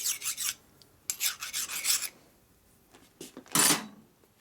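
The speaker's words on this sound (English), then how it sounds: "It's a nice dull file, so it's not really taking any metal off. Just picks off any high spots. It's your polishing file." A dull polishing file rasps across a metal part of a 1965 Panhead 74ci engine during a lower-end rebuild, giving several short scraping strokes in bursts with pauses, close and crisp.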